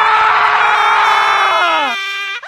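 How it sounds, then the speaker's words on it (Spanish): A sustained, high-pitched scream rings out alone, loud and steady before dropping sharply in pitch near the end and trailing off. "escuchamos unos gritos"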